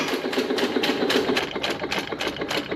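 A Sattley hit-and-miss gas engine with a Wico EK magneto runs outdoors after a spark plug swap, giving a steady, fast mechanical clatter of rapid rhythmic ticks and knocks, close and moderately loud with no talking.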